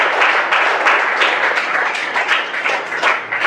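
Children at a school quiz-game event clap loudly together in a brisk, sustained round of applause, close and continuous for several seconds.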